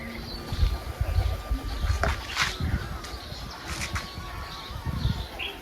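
Pigeons take off and fly, their wings flapping in several loud, irregular bursts. Steady outdoor noise runs underneath.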